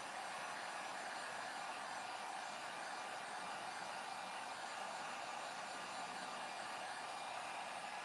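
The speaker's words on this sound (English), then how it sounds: "Let me blow some air on that." A hair dryer or blower runs continuously at one steady level, drying freshly finished furniture pieces, close and loud with a broad rushing hiss and no pauses.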